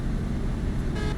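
A vehicle horn gives a single brief honk on the N1 highway during a convoy drive, over steady road and engine noise.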